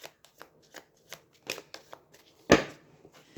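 Tarot cards being shuffled by hand, a string of soft riffling flicks and taps at close range, with one louder slap of the deck near the end and no talking.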